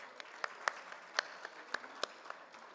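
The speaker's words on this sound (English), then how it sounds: "Can we have a huge round of applause?" Applause from an audience at an auto summit and awards presentation, a steady patter of many hands with several sharp louder claps rising above it, moderately loud and sustained throughout.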